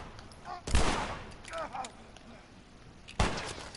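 Video game gunfight with two sharp, loud gunshots spaced a few seconds apart, separated by scattered quieter shots and faint talk in the background.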